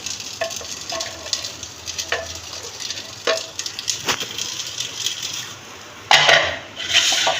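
Steady crackling sizzle of hot oil tempering for dal in a pan, with a few sharp pops and scraping stirs, and a louder burst of spitting near the end.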